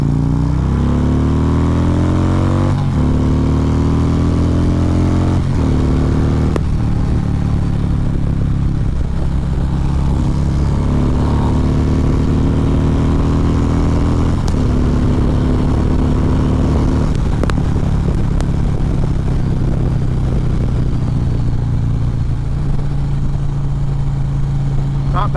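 A 2014 Harley-Davidson Ultra Classic motorcycle under full throttle, its loud, steady engine drone rising through the gears with wind rush, heard continuously from the riding position.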